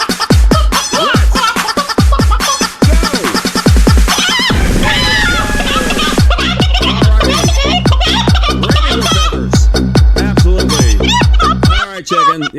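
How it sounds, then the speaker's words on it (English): Fowl squawk and cluck loudly and rapidly in the SNES game Lufia & The Fortress of Doom, a dense run of sharp calls with a brief pause midway, then a fresh burst of repeated clucks. "What is it with the chicken?"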